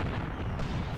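Artillery firing in the tactics game Graviteam Tactics: Mius-Front, a loud, dense rumbling boom that fills the whole brief moment without any voices.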